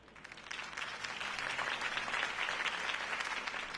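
Faint, steady crowd applause follows a campaign speech in the video game Batman: The Telltale Series, a continuous wash of clapping with no voices over it.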